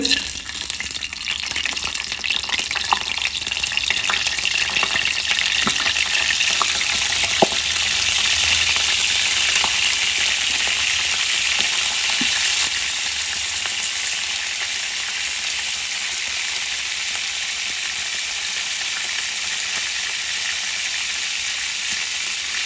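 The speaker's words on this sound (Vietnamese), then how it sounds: "cho cá vào chiên nhé" Catfish pieces fry in hot oil in a home kitchen, a steady loud sizzle and crackle that carries on unbroken, with occasional small pops and a faint voice underneath.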